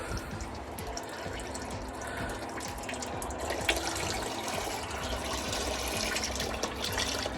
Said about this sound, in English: But got it out now, so just draining the oil.